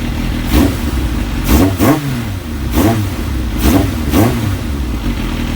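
Kawasaki ZX7R Ninja motorcycle engine warmed up and revving, a steady idle broken by four or five sharp throttle blips at regular intervals, close and loud.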